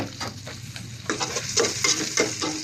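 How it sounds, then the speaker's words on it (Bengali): Onion frying in a pan on a high flame sizzles up close, with rhythmic scraping strokes of a spatula stirring it and brief louder bursts, while fish fries nearby. "এখানে পেঁয়াজটা কষাইতে দিয়ে দিচ্ছি"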